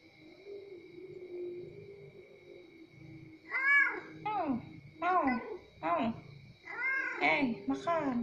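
An orange cat meows repeatedly during a pre-dawn sahur meal, several short rising cries close by, with a soft voice speaking in the background.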